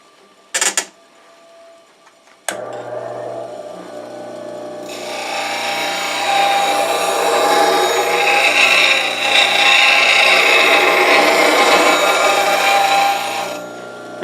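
A bowl scraper has its burr turned on a grinder. Two sharp knocks come first, then a sustained, loud abrasive grinding rasp runs over a motor hum for about nine seconds before it cuts off.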